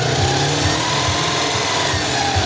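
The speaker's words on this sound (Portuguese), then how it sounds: "Mesmo acelerando o carro." A car engine runs loud and close, its rumble holding steady with slight swells as the throttle is pressed, while alternator voltage is tested and reads low, around 12 to 13 volts.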